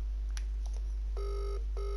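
A telephone rings twice in steady electronic bursts, close and clear, while a call to a friend goes unanswered, with no talk over it.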